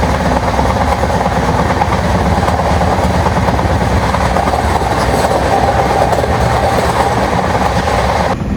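An Indian express passenger train, the Bhagat Ki Kothi–Bilaspur Express, running on rails near Devpura station, with loud continuous rumble and rhythmic clickety-clack of wheels over joints heard from inside a coach, steady to the end.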